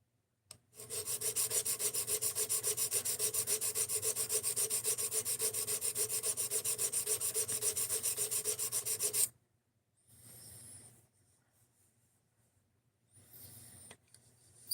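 Hand sanding with 600-grit sandpaper, a close, steady rasping rub with quick even back-and-forth strokes that runs continuously for several seconds, then stops and gives way to a few faint scuffs.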